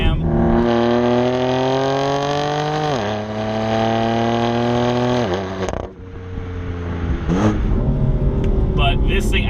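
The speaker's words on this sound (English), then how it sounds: "This particular application with the Dinan exhaust, the catback and X-pipe, it sounds really aggressive." A BMW M4 with the S55 engine and a Dinan catback and X-pipe exhaust revs aggressively in several rising pulls with sharp drops between them, loud and close, ending in a lower burble with rougher crackling.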